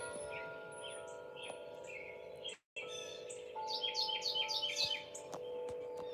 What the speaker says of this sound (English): I heard all the birds out here.